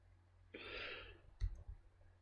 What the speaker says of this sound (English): open it with a double click on mechanical model